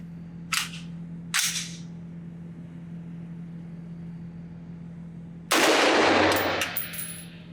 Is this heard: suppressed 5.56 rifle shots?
yes